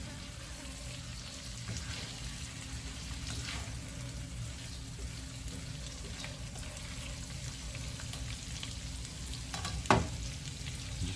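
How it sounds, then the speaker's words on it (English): Shrimp sautés in a pan for a shrimp scampi with pasta: a low, even sizzle holds steady throughout, with one sharp clatter near the end. No speech. "Let that shrimp saute for a bit, you'll be fine."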